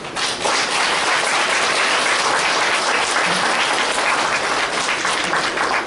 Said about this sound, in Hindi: तो जोरदार ताली बजाओ।